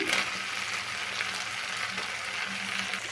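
Chopped tomatoes dropped into hot oil with ginger, garlic and salt in a pan, giving a steady, close, continuous sizzle and frying hiss with no voices.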